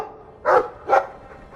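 A dog in the Dragon Age 2 video game gives two short, close barks about half a second apart, each one sharp and mid-pitched, with quiet game ambience between them and no speech.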